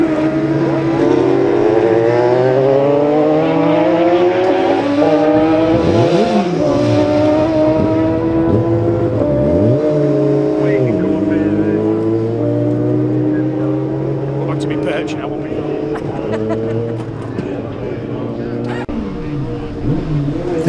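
A Suzuki superbike in a Classic TT road race roars past loud and close, its engine note rising and falling across a sweeping Doppler pass, with a commentator talking over the machines throughout.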